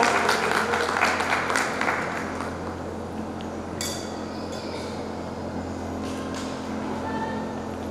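An audience at a school graduation gives a round of applause that is strongest at the start, then thins to a softer, steady patter of clapping in a hall with a constant low hum.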